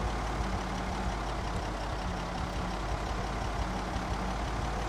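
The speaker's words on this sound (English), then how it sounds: "Sounds like this is one of the louder vehicles as well." A loud vehicle engine idles in the zombie survival game Project Zomboid, a steady low rumbling drone that holds constant throughout with no other sounds.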